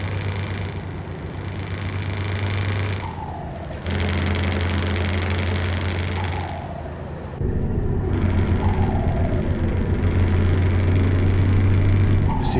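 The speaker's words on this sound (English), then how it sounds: "A nice engine sound." A Scania truck engine in Euro Truck Simulator 2 hums loudly and steadily, with its low drone dipping and swelling several times as the pitch shifts, and no voices over it.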